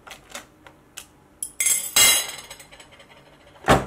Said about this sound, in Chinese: 接着我们将拌好的花生米倒入铺有锡箔纸的空气炸锅内